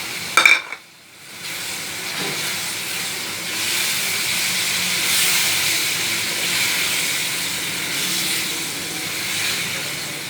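Minced meat keema with tomato paste frying in a pan, opening with a sharp clatter as it is stirred, then a loud, steady hissing sizzle that swells and settles, close up with no talking.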